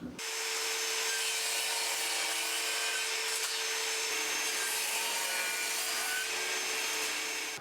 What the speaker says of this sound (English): I'm going to use the miter gauge and the table saw to just trim off the ends